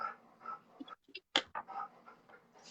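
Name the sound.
puppy whimpering and panting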